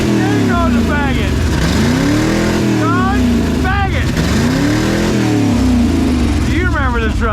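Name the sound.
1979 Ford F-250 truck engine revving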